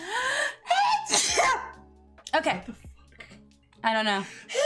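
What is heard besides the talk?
sneeze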